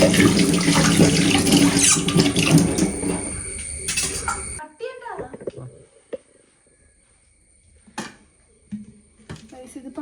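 Half-cooked mandi rice for kuzhimandi is drained, and a loud, steady rush of pouring water runs for about four seconds before stopping abruptly. A few faint clinks and light knocks from the pot and utensils follow in near silence.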